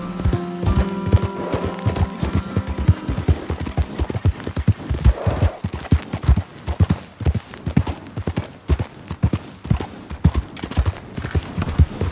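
A horse galloping in Red Dead Redemption 2, a fast, continuous run of hoof strikes in a driving rhythm, close and prominent throughout, with brief game sounds early on and no talking.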